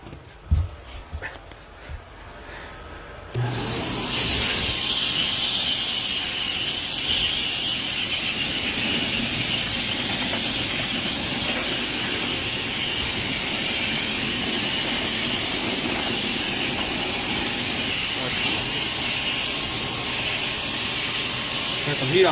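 A CHAOLUN high velocity pet hair dryer blows on high after a short quiet start with a dog's whimpers, then a loud, steady, hissing jet-like rush of air continues close by throughout.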